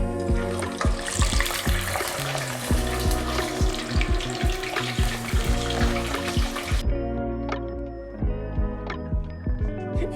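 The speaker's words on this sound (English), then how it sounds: "we're gonna put them into the McDonald's special blend of oil" Frozen fries hiss and sizzle in hot oil, a dense, steady crackle with scattered sharp pops, loud and close for most of the stretch before easing into lighter spitting bubbles near the end.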